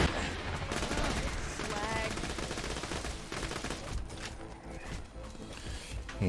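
Gunfire from a distant nomad enemy in Borderlands rattles in rapid, dense bursts throughout, mixed with game effects and brief voice chatter.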